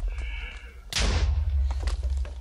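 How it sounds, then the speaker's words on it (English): A TNT explosion from a festive creeper in a Minecraft mod bursts suddenly partway through, a loud broadband blast followed by a deep rumbling tail, with faint game noise before it. "They throw TNT at you and are immune to explosions."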